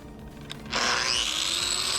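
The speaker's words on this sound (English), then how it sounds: "grind in the direction of the bead, because that will let you know when you get down to the surface" After a short quiet lead-in, an angle grinder bites into a weld bead and sustains a loud, continuous high-pitched grinding whir for the rest of the moment.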